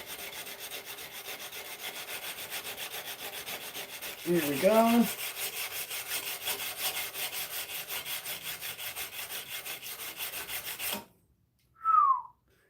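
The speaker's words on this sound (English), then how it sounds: "this tip is looking like it's going to need some more hand sanding for sure" Steady hand sanding of a knife blade, a continuous dense scraping rasp that runs unbroken for about eleven seconds, with a brief spoken phrase partway through and a short voice at the end after the rubbing stops.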